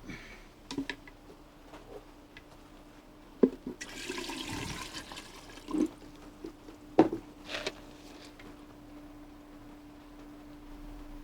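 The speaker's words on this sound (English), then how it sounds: "Let's get our watering can." Water poured from a watering can onto seedling cells, a soft splashing trickle in the middle of the clip between faint clicks and light handling noises, quiet and close.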